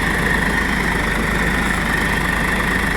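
Steady near idle from a 45 hp three-cylinder Swaraj 742 XT tractor engine: a continuous low diesel chug with an even pulse, unchanging in level and free of speech.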